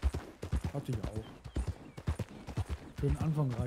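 Horse hooves clip-clop at a steady trotting rhythm in the online mode of the Red Dead Redemption II video game, a regular patter of soft thuds running beneath continuous German conversation.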